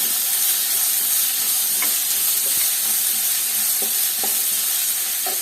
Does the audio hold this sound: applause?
no